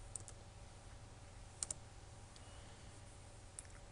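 Mouse clicks during work in a Flash animation program: a couple of sharp, close clicks in quick succession near the middle and one more near the end, over a quiet room hum.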